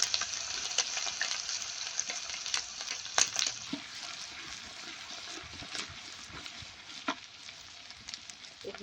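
Garlic frying in hot oil with grated ginger and green chillies added, a steady close sizzle broken by occasional stirring scrapes and clinks.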